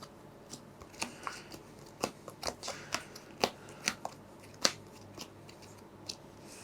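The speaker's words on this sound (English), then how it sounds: "So now I'm quickly shuffling for the next wave." Playing cards being shuffled in quick bursts of crisp riffling snaps, close by, with short pauses between, no voices.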